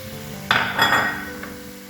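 A spoon works through a mixture of banana, ground rice and sesame in a pan, making a sharp clink followed by a short scraping stir and a light tap, close and clear, with no voices.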